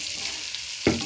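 Hot oil sizzles in a pan, and near the end a loud, sudden hiss bursts out as fried potato and pointed gourd are tipped in.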